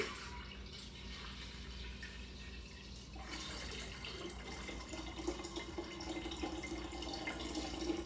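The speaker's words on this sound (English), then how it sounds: "I've made this entire vat of black tea and sugar. Let's pour that in." Sweetened black tea poured from a batch of tea and sugar into a kombucha brewing vat, a steady splashing pour of liquid that grows fuller and louder after a few seconds, close by and with no talking.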